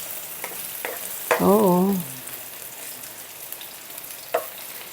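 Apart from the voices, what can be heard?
garlic sautéing in a pan with eggplant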